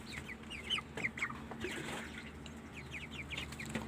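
Young chickens cluck in a rooftop coop where ducks are also kept, soft scattered clucks and short chirps repeating steadily over a low hum, fairly close and moderately loud, with no talk.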